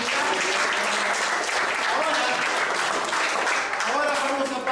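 A workshop audience gives a girl a loud, sustained round of applause, dense and steady throughout, with voices mixed into the clapping.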